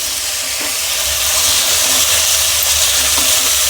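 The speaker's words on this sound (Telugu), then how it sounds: "ఇప్పుడు మొత్తం మనం వంకాయల్ని కలుపుకోవాలి." Brinjals are stirred into a spiced green-chili masala frying in a pan for a stuffed eggplant curry, producing a loud, even hissing sizzle that holds steady throughout.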